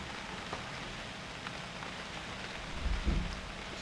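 Steady rain falling in the survival game UnReal World, an even hiss of drops on the ground with a few soft thumps and no voices.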